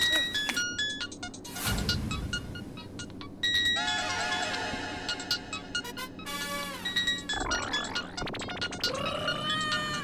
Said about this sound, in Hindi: फोन किसका बज रहा है?